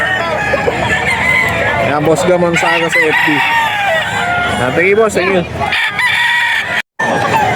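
Roosters crow loudly and repeatedly close by, amid clucking fowl and a steady background of people talking at a poultry auction market.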